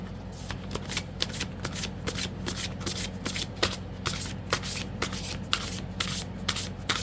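Tarot cards are shuffled by hand for a reading, giving a steady, close riffling and rubbing with regular soft slaps repeating throughout, and no talking.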